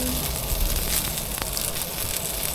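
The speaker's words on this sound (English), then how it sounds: "just to hear the beef starting to sizzle" Chunks of beef for beef bourguignon sizzle steadily in a hot pan aboard a boat, a continuous close frying hiss with light crackles and no talking.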